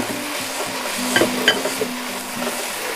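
Chopped leeks are stir-fried with fragrant spice paste in a pan, giving a continuous sizzle with scraping stirs and a few sharp utensil clinks against the pan, and no voices.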